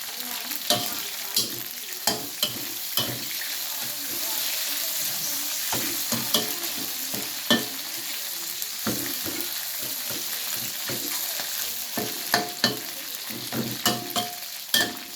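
Grasshoppers fry in a pan with a steady, close sizzle, broken by frequent sharp clacks from stirring.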